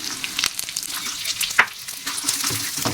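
Roasted gram, garlic cloves and dried red chillies sizzle and crackle while being fried and stirred in a pan, a steady close hiss punctuated by sharp pops and scraping stirs throughout.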